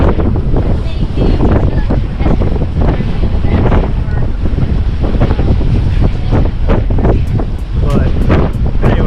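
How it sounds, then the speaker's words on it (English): A sailboat out in heavy seas and wind over 20 knots, with loud continuous wind buffeting the microphone and rushing water and waves throughout, constant and close, drowning out any detail. "it's been pretty heavy seas and pretty high winds, over 20 knots"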